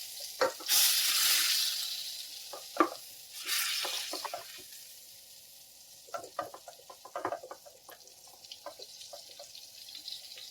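Butter melts and fries in a hot pan with a steady sizzle, overlaid by scraping and tapping of a spatula, and a louder hissing burst near the start before settling into quieter crackling.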